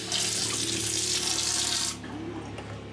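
Water gushes from a new sink faucet with built-in sprayer on a sailboat, a loud close hiss for about two seconds before the flow cuts off and drops to a quieter trickle.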